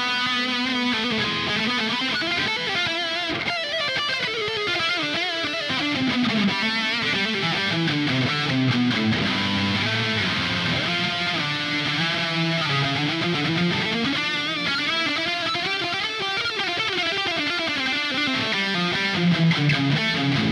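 Guitar played through a Quad Cortex circular delay creates a continuous, thick wash of overlapping repeats with pitch-sweeping contours, loud and steady for the whole stretch.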